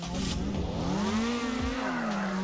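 A car driven in the Roblox video game, its engine holding a steady, rising and falling tone with a faint tire skid, continuous and close for the whole moment.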